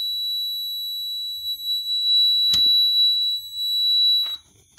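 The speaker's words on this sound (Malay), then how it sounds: "Bunyi beep tu panjang" Repaired electronic device giving a steady, long high-pitched beep tone, with a couple of short clicks and handling noises underneath before it cuts off.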